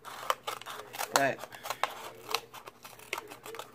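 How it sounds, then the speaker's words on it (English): Scissors snip around the edge of a paper plate in a run of short, crisp cuts and crinkles, close and irregular, with a brief word spoken partway through. "I'm gonna go around it one more time to cut it pretty even"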